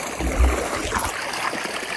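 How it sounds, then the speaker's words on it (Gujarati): Borewell water pours into a farm tank on a castor field, making a close, continuous gurgling and splashing flow with a brief low thump near the start. "આ બાજુ કુંડીએ પાણી આવે છે, જોઈ લો ચાલુ જ છે પાણી"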